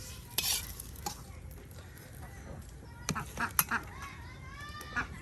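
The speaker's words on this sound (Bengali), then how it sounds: "যে বাবি এখন আপনার রসুনের সাথে কিছু পরিমাণ তেল দিয়ে বাগার দিতেছেন" Garlic sizzles in hot oil in a village kitchen while being tempered, a soft continuous fry broken by sharp clinks and stirring scrapes, with a few brief bird-like squawks in the background.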